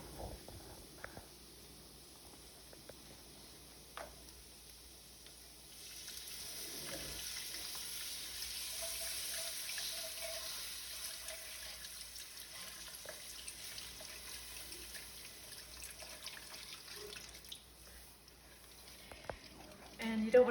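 Soft, steady pour of chicken stock into a pot running for several seconds, with faint clinks and kitchen noises around it and quiet background hiss.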